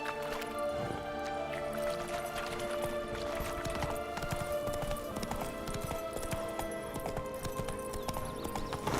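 Roach, Geralt's horse in the video game The Witcher 3, gallops with a rapid, steady clip-clop of hooves that continues throughout, with a brief whinny and faint game ambience underneath.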